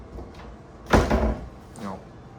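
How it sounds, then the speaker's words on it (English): A cabinet door under a kitchenette sink in a Disney Boardwalk Villas deluxe studio bangs shut with a sharp knock, followed by a softer second bump as the uneven door swings, close and alone. "We have these doors under the sink that don't close."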